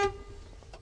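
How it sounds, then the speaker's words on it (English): Semi tractor-trailer horn sounding in a brief blast during a pre-trip inspection, a loud harmonic honk of about a tenth of a second that quickly fades, followed by faint low rumbling. "I want to check both my city and my air horn"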